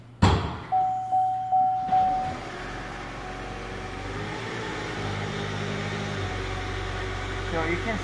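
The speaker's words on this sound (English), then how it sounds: "as soon as I pop the hood, you're gonna hear the engine going on" A thump and four quick chime beeps, then a Chevy Volt hybrid's gasoline engine starts after the hood is opened and settles into a steady, low idling hum that continues close by.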